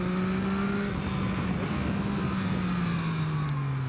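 A 2023 Yamaha MT-09 motorcycle engine drones steadily while riding, its tone easing slightly lower over a few seconds beneath constant wind rush, with no talking.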